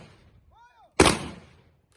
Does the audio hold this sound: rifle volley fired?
yes